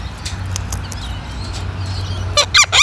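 A goose gives two or three loud, close honks near the end, after a steady low outdoor rumble with scattered faint clicks.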